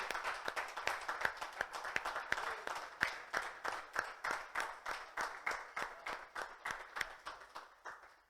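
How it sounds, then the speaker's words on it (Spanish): A church congregation applauds together in steady rhythmic unison claps, loud and even, keeping a regular beat for several seconds. "Dale un fuerte aplauso."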